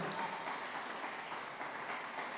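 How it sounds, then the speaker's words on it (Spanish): A church congregation applauds together, a steady, diffuse wash of clapping heard from some distance across the sanctuary. "pero un buen aplauso, que se sienta"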